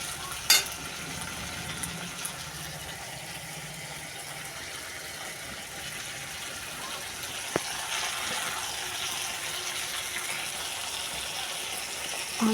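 Shrimp with salt and turmeric fry in a pan over medium heat, a low continuous sizzle with occasional scrape and clink of a spatula as the pieces are stirred.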